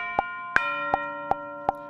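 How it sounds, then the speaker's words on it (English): Tubular bell from the Native Instruments Symphony Series, struck five times at an even, steady pace, each ringing strike clear and bright over a sustained orchestral pad. "Now the tubular bell comes in at the first bar"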